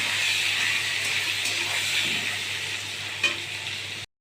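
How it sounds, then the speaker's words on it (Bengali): Pointed gourd (potol) frying in mustard oil with salt and turmeric, a steady close sizzle with occasional stirring scrapes, cutting off abruptly at the end. "এবার আমি পটলটাকে ভালো করে ভেজে নিচ্ছি"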